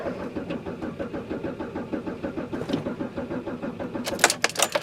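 A car engine cranks over while trying to start, a rapid, rhythmic churning of the starter that runs steadily for several seconds before some sharp knocks and clatter at the end.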